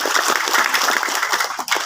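An audience at a community gathering claps briefly, a dense, close burst of applause from many hands lasting about two seconds.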